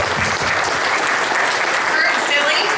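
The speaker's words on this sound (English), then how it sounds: "All right, round of applause." Audience at a Cub Scouts district roundtable applauds an award recipient, steady dense clapping filling the room throughout with a murmur of voices underneath.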